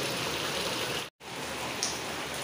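Heavy monsoon rain falls steadily in a dense, continuous hiss of drops on the ground, loud and close, broken only by a brief cut in the sound.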